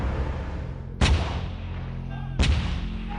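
Archer self-propelled artillery gun firing, two heavy booming blasts about a second and a half apart over a steady low rumble, loud and close without any talking.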